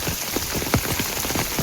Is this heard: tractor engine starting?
no